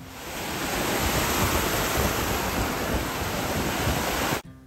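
Sea waves breaking on an Italian beach, a steady loud broadband wash of surf rolling continuously without pause, cutting off abruptly near the end.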